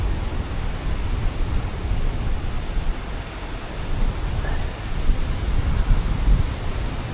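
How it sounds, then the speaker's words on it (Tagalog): Strong waves roll onto a beach in a steady, loud, broadband wash of surf mixed with wind rumble, continuous without a break. "Kaya pala malakas ang mga alon dito sa area na to."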